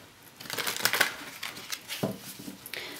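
Tarot cards being shuffled by hand, a close, dry riffling and crinkling rustle in uneven bursts with no speech.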